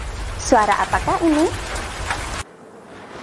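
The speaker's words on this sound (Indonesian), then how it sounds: "suara hujan" Steady rain hiss and patter plays under a person asking a short question, then cuts off abruptly near the end, leaving near silence.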